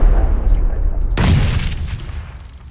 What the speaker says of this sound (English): I'm about to toss a grenade over the hill.